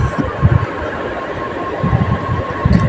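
A Vande Bharat express train running, heard from inside as a loud, continuous rumble with rhythmic low thumps of the wheels on the track.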